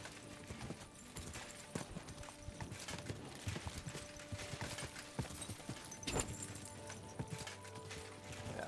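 Rhythmic clip-clop of horse hooves trotting steadily in the video game Kingdom Come: Deliverance II, with faint mechanical clatter in the background.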